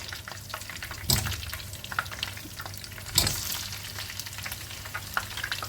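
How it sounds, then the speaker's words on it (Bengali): Potato pieces fry in oil for a Bihari-style chicken curry, making a steady moderate sizzle interrupted by two louder bursts of stirring or spattering, with nobody talking. "তো চলো এই তেলে আমি আলুগুলো ভেজে নেব"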